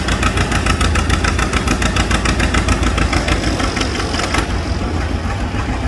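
Pulling tractor engine under throttle at a county fair, a loud, close, continuous roar with a fast pulsing rhythm that holds steady throughout.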